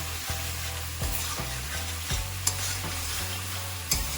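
Spice paste for pumpkin curry sizzles and fries in a pan while a spoon stirs it in repeated scraping strokes, close and steady, with no talking.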